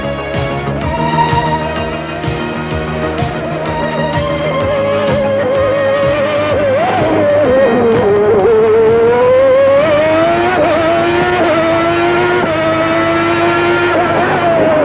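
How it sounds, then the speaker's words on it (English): Formula 1 racing cars at the 1991 Australian Grand Prix in Adelaide, an engine screaming at high revs with rising and falling pitch through gear changes, loud and close, other cars layered beneath. "Ayrton Senna got it right with a scintillating lap of Adelaide"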